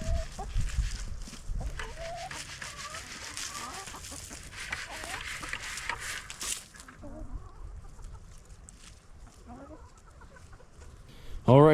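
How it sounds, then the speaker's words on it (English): Four chickens cluck and squawk close by, with overlapping calls and a rooster-like crow, plus some background noise and a loud burst at the end. "So we got 4 new chickens."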